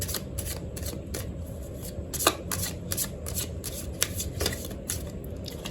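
Tarot cards being shuffled by hand in a quick run of crisp riffling bursts, close and fairly loud, with a couple of sharper snaps as cards are picked out.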